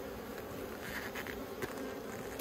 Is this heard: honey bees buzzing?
yes